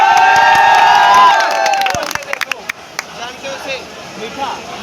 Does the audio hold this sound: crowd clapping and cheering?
yes